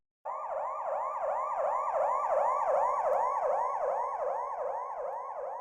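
Wailing car siren sweeps up and down in a fast, regular cycle, loud and continuous from start to finish, presented as a passing vehicle's siren illustrating the Doppler effect.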